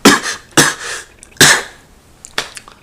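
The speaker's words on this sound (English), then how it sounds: "There should be no coughing during sex." Several short, sharp coughs in separate bursts, spaced irregularly and close by, with no talking.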